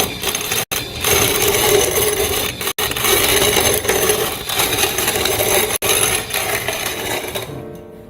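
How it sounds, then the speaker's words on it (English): A hand coffee grinder with no adjustment, grinding coffee beans on a Philippine coffee farm, giving a continuous close gritty crunching and rasping with a few brief breaks. "then you can start grinding the coffee"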